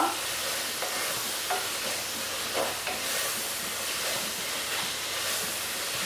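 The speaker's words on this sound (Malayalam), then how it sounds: "എന്നിട്ട് നന്നായിട്ട് പച്ചമണം മാറുന്നത് വരെ വഴറ്റി കൊടുക്കുക." Onions and ginger-garlic paste sauté for a Kerala-style beef roast, giving a steady, close sizzle with soft stirring scrapes running throughout.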